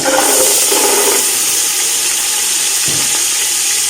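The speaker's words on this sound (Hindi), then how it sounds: "अभी हम मटर डाल रहे हैं। मटर को करते हैं अच्छी तरह फ्राई।" Green peas fry loudly in hot ghee, a dense, continuous sizzle that stays close and steady throughout.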